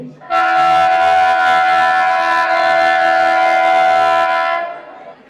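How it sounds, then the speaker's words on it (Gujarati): An arriving train's horn blares loudly and steadily for several seconds, a sustained chord-like blast that cuts off before fading into rumbling. "આપણે ટ્રેન આવી ગઈ."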